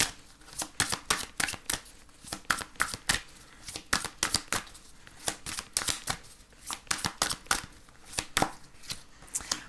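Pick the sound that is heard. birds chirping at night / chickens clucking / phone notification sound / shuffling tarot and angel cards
shuffling tarot and angel cards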